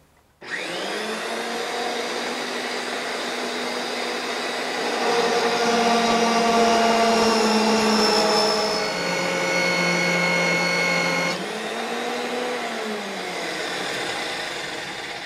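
A RIDGID 535M pipe threading machine runs forward under load, a loud steady motor whine with a grinding, vibrating drone that rises in pitch partway through, then settles and winds down near the end; no one talks.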